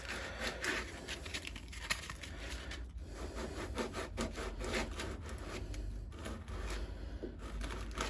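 Coarse 40 grit sandpaper rasps body filler off a Jeep Patriot panel, a close, gritty scrubbing in quick repeated back-and-forth strokes that runs without a break.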